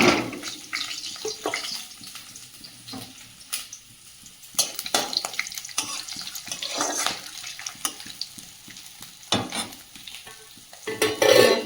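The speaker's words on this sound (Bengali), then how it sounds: "মশলাটা ভাজা ভাজা হয়ে গেছে" Dried red chillies, bay leaves, whole garam masala and cumin seeds crackle in hot oil in a kadai, a low sizzle broken by sharp scraping stirs and clinks at close range.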